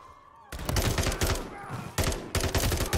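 Rapid bursts of gunfire in the Call of Duty Modern Warfare 3 video game, loud and close, in a dense volley that breaks off briefly and then resumes.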